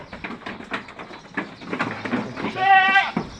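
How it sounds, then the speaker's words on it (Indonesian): Goats bleat on a goat farm in Aceh, several loud close calls in quick succession with a long wavering bleat near the end, amid other farm noise. "Ya, namanya laga kambing."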